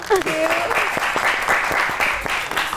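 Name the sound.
applause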